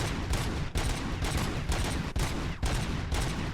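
Gunfire from the RoboCop Rogue City video game, a dense continuous fusillade of loud rapid shots with brief gaps, heard alone without speech.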